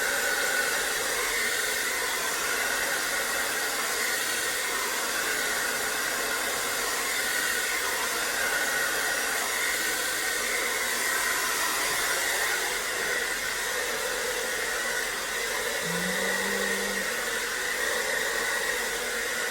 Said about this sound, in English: whenever you blow dry the hair, always aim it down